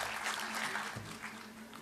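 A mushaira audience applauds a recited couplet, with moderately dense clapping that holds steady and then thins slightly, heard at a moderate distance.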